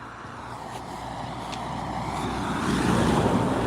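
A car approaching along a road during a dog walk, a broad rising whoosh that swells steadily louder and nearer over a few seconds, with no talk.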